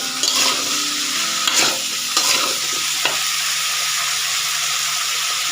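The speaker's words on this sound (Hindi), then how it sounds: "इसको थोड़ी देर हम ऑयल में फ्राई करेंगे" Kosala saag leaves with salt frying in oil, a loud, dense sizzle and hiss right up close, with a few sharp stirring scrapes early on and the crackle holding steady after them.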